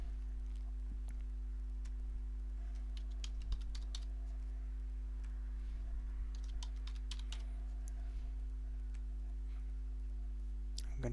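Light keystrokes on a computer keyboard while entering a username during setup of a Raspberry Pi 5, soft scattered taps over a constant low electrical hum.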